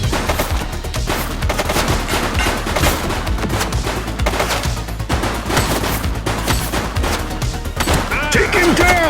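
A suspect opens fire in the video game The Precinct: loud, rapid bursts of automatic gunfire crack continuously and close by, with scattered impacts and a brief tonal sound near the end.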